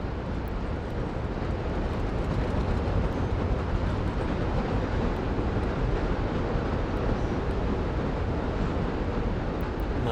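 Trains rumble steadily past in the city-building game Workers & Resources, a dense, continuous rolling roar with rail clatter that stays loud and close throughout, no talking.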